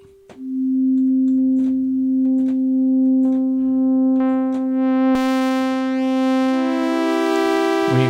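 A single FM synthesizer tone starts as a pure sine, then self-modulating feedback steadily adds integer harmonics until it turns bright and buzzy like a sawtooth wave, heard alone and loud with short clicks along the way.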